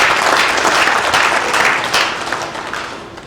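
A crowd at a hospital foundation-stone laying ceremony for a university bursts into a loud, dense round of applause that holds steady before gradually thinning and fading toward the end.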